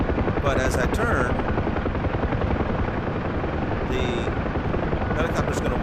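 Steady, loud helicopter rotor drone running throughout as the helicopter hovers and makes nose-in hover turns, with someone talking over it.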